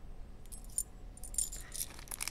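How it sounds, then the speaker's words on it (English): A metal key jangles among loose craft supplies such as buttons, ribbons, flatbacks and brads, giving a few faint, brief jingles and clinks close by. "I have a key in here."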